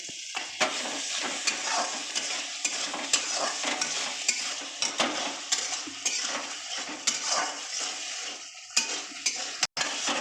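Fish curry masala with tomato, turmeric and salt fries in a pan while a utensil scrapes and clanks against the metal in frequent strokes over a continuous close sizzle.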